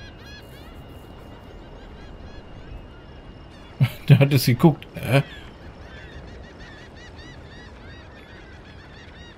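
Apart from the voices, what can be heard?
seagulls calling, from video game Hitman 3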